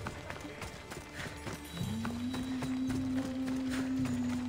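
Rhythmic hoofbeats of a galloping horse in Assassin's Creed Odyssey with a sustained tonal hum rising in partway, game-style effects over a steady background.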